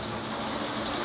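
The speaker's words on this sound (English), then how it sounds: "Seth, what is this train?" Toy train running close by, a steady whirring rattle that stays even and continuous for the whole second.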